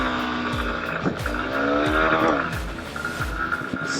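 A 2021 Honda CB200X motorcycle accelerates hard on an empty road, its engine note climbing steadily through repeated gear changes, loud and close throughout with continuous wind noise.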